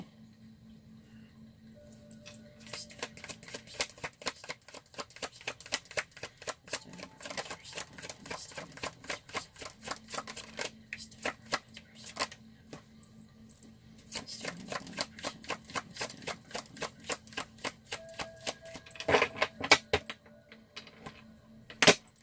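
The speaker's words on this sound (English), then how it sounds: "I just needed to get enough shuffling." Tarot cards are shuffled over and over as rapid bursts of crisp riffling flutters, with brief pauses between rounds, close and fairly quiet.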